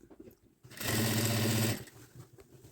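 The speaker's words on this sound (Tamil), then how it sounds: "திரும்ப நல்ல பக்கமாக இவ்வாறு ஒரு தையல் போட வேணும்" An electric sewing machine runs in one steady burst of about a second while stitching the hem of a cotton lungi. Quiet room noise comes before and after the burst.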